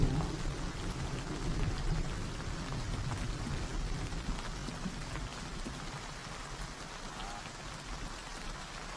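Steady rain pours down in the wild, a dense, continuous hiss of drops striking the ground and foliage that holds an even level from start to finish with no voices.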